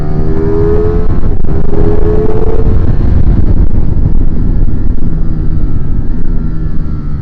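A 2022 Ducati Streetfighter V4 motorcycle accelerating hard on a race track, a loud, close engine roar climbing through the revs with gear changes and heavy wind rush.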